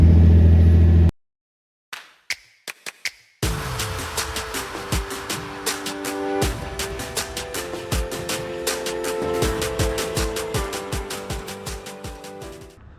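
Golf R car engine starting and running, preceded by a few sharp clicks and brief bursts, then a steady mid-pitched engine note with rhythmic pulses and changes in revs, fairly close and loud.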